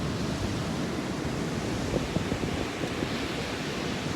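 Ocean waves break on the shore in a steady, moderately loud surf wash with a low rumble, continuous throughout with slight swells and a touch of wind buffeting the microphone; no one speaks.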